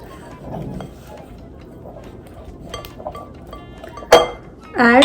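Cookie dough with cumin seeds being stirred in a bowl: soft scraping and light clinks of a utensil against the bowl, fairly quiet, with a few sharper clinks and a voice talking near the end.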